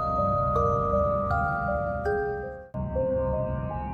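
A notification bell sound effect plays as a short sequence of bright chime tones stepping between pitches, clear and alone over a soft background.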